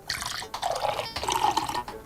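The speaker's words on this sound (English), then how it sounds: "I'm going to pour one after the other into a different glass" Water poured into a drinking glass, two separate splashing pours with a short pause between them, close and fairly quiet, no voices.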